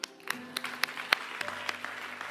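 A church congregation applauds to acclaim God, producing a burst of sharp, uneven claps that ring through a reverberant hall and keep up at a steady moderate level for a couple of seconds.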